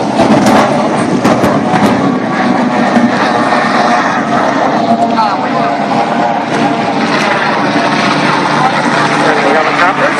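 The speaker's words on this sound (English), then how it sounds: "The helicopters." Helicopters fly over a Clearwater Beach super boat race, producing a loud, sustained engine and rotor drone that blends with distant race-boat engines.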